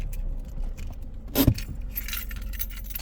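A short burst of jangling car keys rings out close by for about a quarter second near the middle, over steady low road and engine rumble from a parked car.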